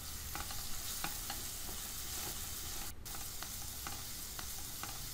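Spiced potato bhaji with green chilli, turmeric and salt is stirred in a frying pan, a constant dense sizzle with light, regular clicks of the spoon against the pan and one brief dropout midway.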